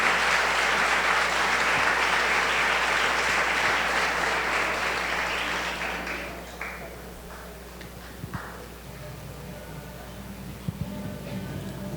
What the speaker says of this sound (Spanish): Un aplauso para Rodrigo de bienvenida.